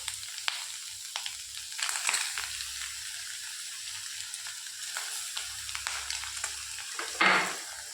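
Fish sizzling and crackling in hot oil in a kadai, a steady frying hiss with a few louder spits and one brief burst near the end, close by with no talking.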